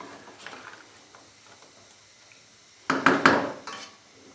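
Potatoes and peas being sautéed in a pan for chicken pulao, with quiet stirring and light scrapes followed by a louder burst of clattering spoon-on-pan scraping near the end.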